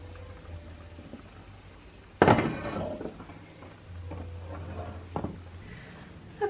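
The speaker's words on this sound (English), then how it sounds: "So I'm gonna give this a good stir up, move it onto the lower heat and let that simmer" Simmering broth stirred in a pot, a low bubbling hum broken by a loud scraping clatter of the spoon against the pot and a couple of lighter knocks afterward.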